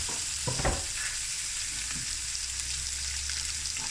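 Fatty lamb pieces sizzle loudly as they go into a hot dry stew pot with no oil, a steady close crackling hiss with a brief clatter of meat landing near the start.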